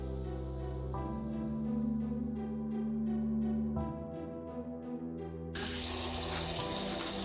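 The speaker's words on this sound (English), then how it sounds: "get them soaked and cleaned up real well" Football gloves are washed under a running faucet in a sink, the steady water stream swelling to a louder, brighter gush near the end, with no talking.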